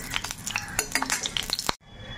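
Dried red chilli hitting hot mustard oil in a pan, with stirring, utensil clinks and sizzling bursts close by, then a sudden drop to quiet near the end.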